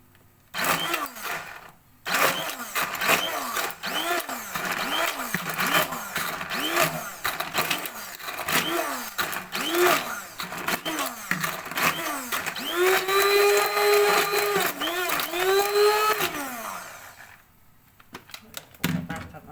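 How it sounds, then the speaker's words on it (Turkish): Pomegranate seeds whirring in a food processor, a close motor whine that pulses in short repeated bursts, then runs in longer rising spins, with a brief pause near the start and a stop near the end. "Narımı da rondodan çekeceğim."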